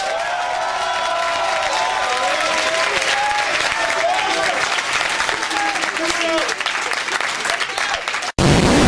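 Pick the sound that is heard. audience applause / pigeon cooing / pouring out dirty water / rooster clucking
audience applause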